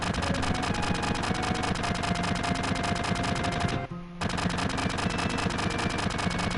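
Enemy gunfire in Final Fantasy VII rattles as dense, continuous rapid-fire bursts, loud and sustained, briefly cutting out for a fraction of a second before the barrage resumes with no voices.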